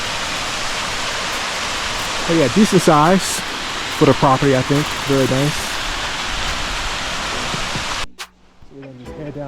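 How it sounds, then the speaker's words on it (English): A waterfall on a property in Manizales, Colombia gives a constant close rushing roar while someone speaks over it, and the water noise drops away sharply near the end. "So you can see the waterfall right away,"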